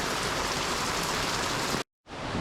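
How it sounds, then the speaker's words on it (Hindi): Heavy rain pouring down on a street in Goa, a dense, loud, steady hiss of drops that cuts out briefly near the end before resuming. "it's raining heavily, like as you can see"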